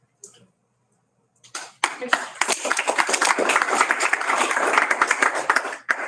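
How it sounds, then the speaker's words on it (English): After a brief pause, a crowd at a school district board meeting breaks into loud, dense applause that quickly builds and holds steady, with many hands clapping at once. "I appreciate everybody wants to applaud everybody tonight"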